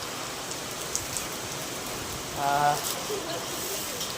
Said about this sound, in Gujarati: ક્યાંય કાંઈ દેખાતું નથી એટલો વરસાદ છે